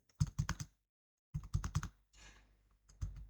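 Bursts of typing on a computer keyboard while entering text into an Excel spreadsheet cell, two quick clusters of close, crisp key clicks separated by a pause, followed by softer rustling and a final few taps.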